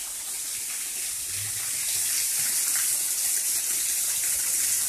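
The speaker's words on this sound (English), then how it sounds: "we have another waterfall up here" A small waterfall in Devils Den State Park spills into a cold brook, a continuous bright hiss of rushing water heard close and steady, with no voices.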